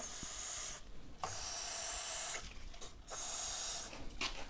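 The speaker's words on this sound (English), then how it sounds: "Let's scooch some spray on these. A bit of GT85 in there." Three short bursts of GT85 penetrating spray on a Suzuki Katana motorcycle stored for 31 years, a hissing blast, a pause, another hiss, then a final burst, close by with no talking.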